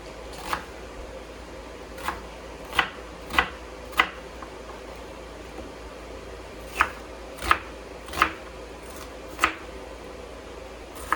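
A knife roughly chops vegetables for homemade salsa on a cutting board, a dozen or so sharp, separate thunks at uneven intervals, close and fairly quiet, with no talking.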